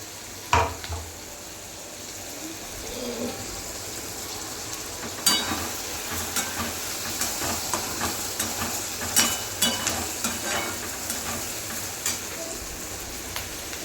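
Onion, green chilies, cashews, tomato, ginger and garlic frying together for a chole masala, a continuous crackling sizzle with repeated sharp stirring clicks and scrapes, close and without talk.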